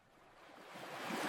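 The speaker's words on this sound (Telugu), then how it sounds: "అదిగో గోదావరి నది." Godavari river water washes against the bank in a soft, steady surge that builds gradually, a low rushing swell with faint wind and no voices.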